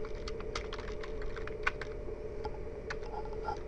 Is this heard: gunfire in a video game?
no